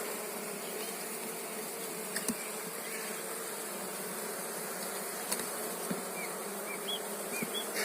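A dense, steady drone of many bees buzzing close by around hive frames in an apiary, continuous throughout with faint small clicks and knocks.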